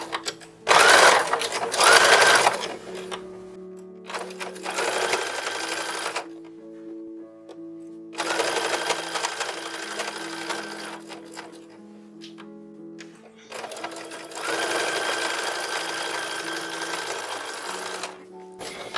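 A sewing machine stitching down the back opening of a 1910s–1920s-style baby dress bodice, running in several loud whirring bursts separated by quieter pauses.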